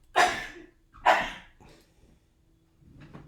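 Two sharp, breathy bursts about a second apart, a sneeze-like pair, followed by a faint breath in a quiet room.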